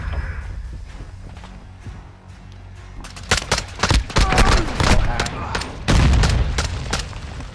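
Rapid bursts of automatic fire from the Hurricane gun in Modern Warfare II, sharp cracks starting after a quieter stretch and clustering close and loud, with voices speaking around the shots.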